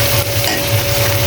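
Shrimp frying with onion, ridge gourd just being added to the pan, producing a loud, close, continuous sizzle with scraping stirring sounds and no talk.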